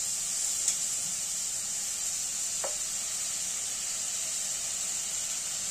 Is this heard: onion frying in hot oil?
yes